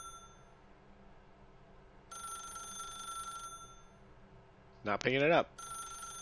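An old-style telephone bell rings repeatedly inside the video game The Stanley Parable, in bursts with pauses between them, over a low room hum, and a voice speaks briefly during one gap.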